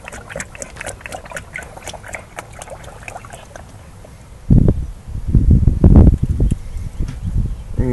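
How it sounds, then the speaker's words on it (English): Used oil pours through a strainer, a thick liquid glugging and splashing that starts partway through and grows louder and closer, after a stretch of quieter background ticking. "you'll see it takes a little while to get through the strainer"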